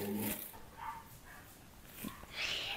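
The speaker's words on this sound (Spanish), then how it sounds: "los perros de esta colonia tienen que ladrar" Neighbourhood dogs bark in short, scattered bursts at a moderate distance, with a whimpering yip mixed in over a quiet outdoor background.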